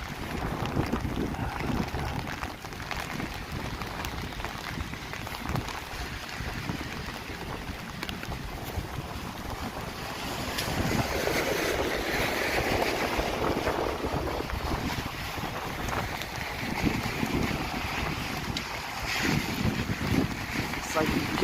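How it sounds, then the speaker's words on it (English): Gale-force wind on a freezing-rain evening in Toronto buffets the microphone with continuous rough roaring and gusting, surging louder partway through, while someone speaks underneath. "It's like gale force winds here."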